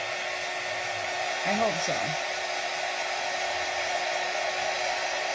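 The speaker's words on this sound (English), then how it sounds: "I'm going to hit it with the dryer because I'm kind of curious to see how this works." A hair dryer blowing steadily on a paper towel roll candle, a constant loud whooshing whir throughout, with a brief spoken remark near the start.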